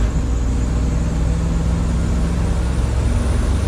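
A car engine with a rebuilt carburetor runs at full throttle, a loud, steady, close-up drone that holds without a break.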